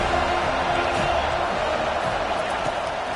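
Stadium crowd at a football game roaring steadily, a dense wash of cheering and noise that holds at full volume without a break.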